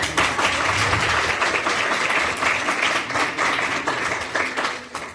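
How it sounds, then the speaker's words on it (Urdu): An audience at a talk on Christian fasting claps together in a loud, close, steady round of applause lasting several seconds, with no speech over it. "ہم سب ان کے لیے تالیاں بھی بجائیں گے"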